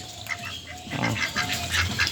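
Several ducks quacking close by, overlapping calls in quick bursts against a background hum.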